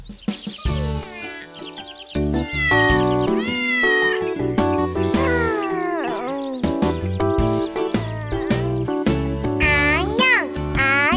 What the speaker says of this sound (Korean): 고양이랑 인사해요.